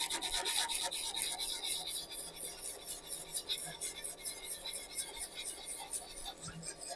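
Sandpaper rubbing saw marks off the end of a pen cap spinning on a lathe, a faint steady rasping hiss with rhythmic scraping pulses, quiet and close.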